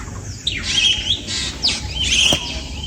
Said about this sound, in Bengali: এই যে পাখির শব্দটা শোনা যাচ্ছে দ্যাটস অ্যামেজিং